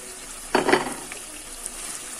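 Pieces of liver drop into frying masala with a short burst of sizzling and stirring, then the pan settles into a quiet low hiss.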